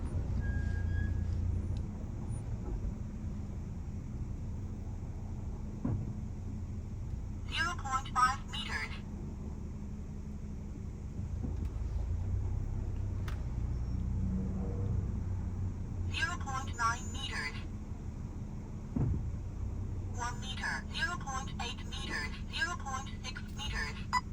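An aftermarket parking sensor in a VW Beetle beeps with its front sensors active while the car creeps forward with the brakes on. Three bursts of rapid, fairly faint pulsed beeps rise over a low engine hum in the cabin.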